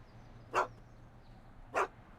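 Einstein, the dog in the Back to the Future video game, gives two short, clear barks spaced about a second apart over a quiet background hum.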